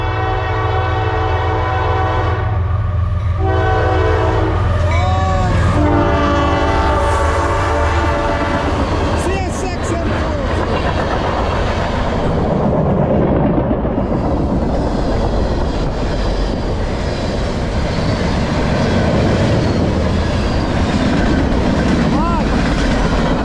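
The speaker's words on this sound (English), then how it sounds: "Give me a nice horn show. CSX M403. Track 2." CSX M403, a freight train on track 2 of the Lehigh Line, sounds repeated loud horn blasts as it approaches, then rumbles past close by with heavy rolling rail noise.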